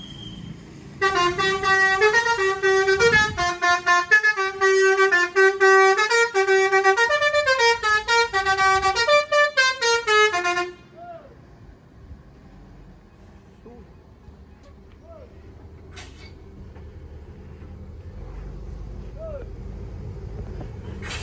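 Musical telolet horn of an NPM Khazanah tour bus playing a loud, tuneful melody of repeated horn notes for about ten seconds, then cutting off to engine rumble and passing traffic.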